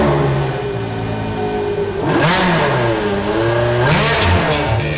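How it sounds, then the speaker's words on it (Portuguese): A supercar engine revs hard twice, climbing and falling in pitch over a loud, steady engine drone, close and alone. "vai ser música para os ouvidos de quem adora o som de um motor"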